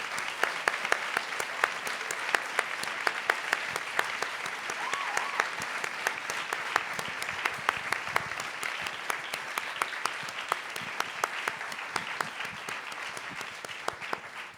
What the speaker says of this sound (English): Come on and give them a round of applause.